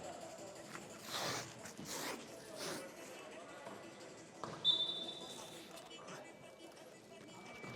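Cloth fabric tape, like army sniper tape, is pulled off the roll and wrapped around a glove and sleeve in several rasping, zipper-like rips, with a person speaking softly between them.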